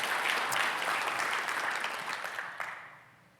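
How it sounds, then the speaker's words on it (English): Audience applause at a conference, a dense wash of clapping that holds steady for a few seconds, then thins out and fades near the end. "how about giving Connexus another round of applause?"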